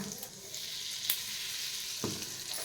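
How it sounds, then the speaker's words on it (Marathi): Mustard seeds, cumin and asafoetida sizzle in very hot oil, a steady bright crackling fry heard up close, with a couple of small pops and no talking. "तेल चांगलं कडकडीत गरम झालं की 1 चमचा मोहरी घालायची, अर्धा चमचा जिरं घालायचं, थोडासा हिंग घालायचा"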